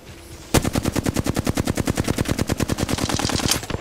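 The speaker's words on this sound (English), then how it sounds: "That was the most inaccurate shooting of my life" A sidearm fires in Apex Legends as a rapid, evenly spaced stream of loud, close shots, roughly two dozen in about three seconds, with no talking.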